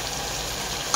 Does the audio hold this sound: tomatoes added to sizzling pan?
yes